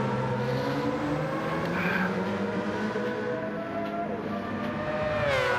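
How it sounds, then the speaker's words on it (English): A Mazda race car's Wankel rotary engine holds a loud, steady high-revving whine, then climbs sharply in pitch at the end. "he's still revving that engine out"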